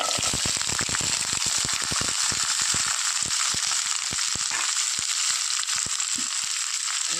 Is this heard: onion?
yes